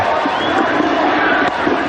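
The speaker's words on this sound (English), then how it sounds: "Look at that crowd, the tension's enormous for the spectators." A large stadium crowd at a 1992 cricket World Cup semi-final between Pakistan and New Zealand roars in a continuous, loud wash of cheering and shouting, with no break across the short stretch.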